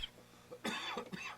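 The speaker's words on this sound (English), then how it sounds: "I don't cough until I get on the air with you" A man coughs into a microphone on a talk-show broadcast, two close, harsh coughs in quick succession after a faint throat sound, with no talk over them.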